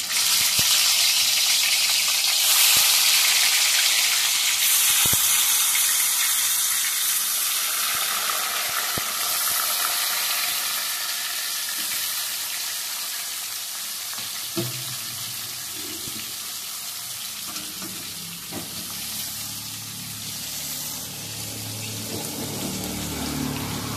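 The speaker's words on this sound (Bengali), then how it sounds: "তেলটা গরম হয়ে গেছে, এরপর আমি মাছগুলো ছেড়ে দিচ্ছি তেলের মধ্যে।" Rohu fish pieces fry in hot mustard oil, making a loud, continuous hissing sizzle that eases slightly over a long stretch, with faint crackles and no speech.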